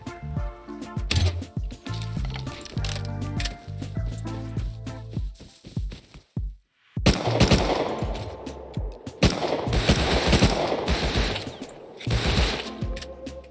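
Machine gun fire in the Rust video game: long, loud bursts of rapid automatic shots. Steady rattling comes first, then a short gap, then denser, heavier volleys that go on without pause.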